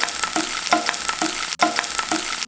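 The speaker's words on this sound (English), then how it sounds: "why we need to stir fry the shiitake mushroom first" Shiitake mushrooms with garlic sizzle steadily in hot oil, broken by a rhythmic scrape of stirring roughly every half second, close and fairly loud, with one brief drop in the sizzle.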